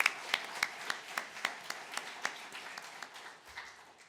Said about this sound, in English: I think this is deserving a round of applause for their efforts to organize such wonderful events